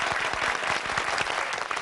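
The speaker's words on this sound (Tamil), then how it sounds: "2 பேருக்கு ஒரு பெரிய கைத்தட்டல்கள்." A Tamil television celebrity show's studio audience claps for arriving guests, a brisk, dense burst of handclapping that stays loud and close throughout, with no talking over it.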